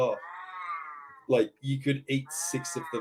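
An old cat meows in long, wavering, caterwauling cries, one drawn-out call followed by several shorter yowls, heard over and between a person talking.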